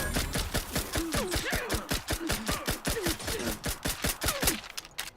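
Rapid automatic gunfire rattles in The Outer Worlds 2, a steady stream of sharp shots spaced evenly over about five seconds, with a voice speaking faintly underneath.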